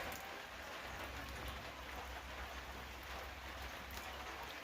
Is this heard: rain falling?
yes